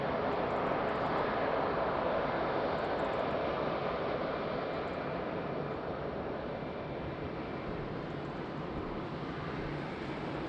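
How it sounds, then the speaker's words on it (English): A Boeing 777 airliner taking off at Lisbon Airport in rain and wind, a steady broad jet engine roar heard from a distance, holding even and gradually easing. "So that was nice 777 takeoff, amazing."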